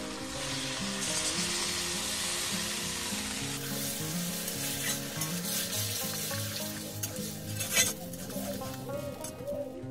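Strong, steady sizzling as water is poured over fried cauliflower in a hot pan for a potato, cauliflower and carrot dish, rising into a loud, crackling hiss with a few clinks of utensils.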